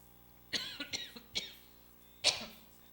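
A few sharp coughs close to the microphone, three in quick succession, then a pause and one more forceful cough.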